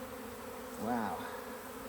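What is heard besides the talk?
honey bees buzzing in open beehive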